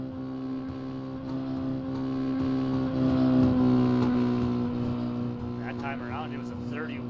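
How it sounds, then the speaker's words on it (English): A dirt rookie mini stock race car at Slinger Speedway drones steadily with a sustained engine tone that swells and fades as it laps, while a voice talks over it. "every little crackle you hear out of that engine, that's that engine cutting out saying no more"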